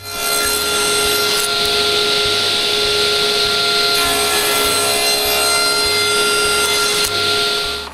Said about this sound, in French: je me coupe un morceau de noyer qui traîne, carré. Je coupe les 2 bouts droits.